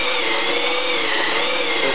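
A Milwaukee 2601 compact cordless drill bores into abrasive cedar with a spade bit, giving a steady, loud motor whine with a dense grinding hiss that holds without a break.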